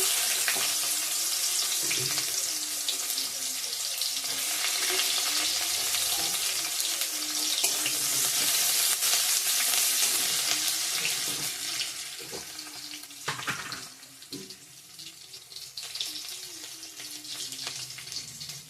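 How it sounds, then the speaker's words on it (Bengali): Onion and bay leaf dropped into hot oil for a Bengali rohu fish curry, giving a steady loud hiss and sizzle that fades slightly toward the end with a few spatters and stirring clinks. "গরম হয়ে গেছে তেল পেঁয়াজ তেজপাতা দিয়ে দিলাম"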